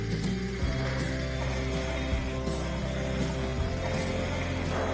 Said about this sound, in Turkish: Hiç vakit kaybetmeden Tefal Actiflow'u işin içine sokuyorum ve 4 bıçak teknolojisiyle içeride hiç topak bırakmayacak gibi patates, soğan, bal kabağı hepsini birbirine geçiriyorum